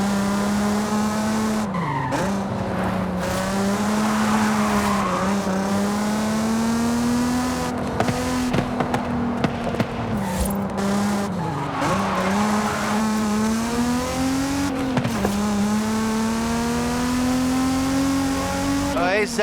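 A Mazda Miata driven hard through woods at the base of a volcano in Forza Horizon 5, engine droning steadily with repeated tire squeals and skids, loud and up close.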